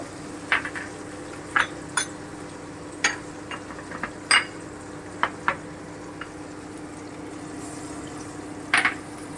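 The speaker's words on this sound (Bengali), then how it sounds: "এবার আমি একটুখানি ভেজে নেব এটা একটু নেড়ে নেবো" Shahi paneer being stirred in a frying pan: a low steady sizzle under scattered sharp clinks and scrapes of a utensil against the pan, recurring every second or so.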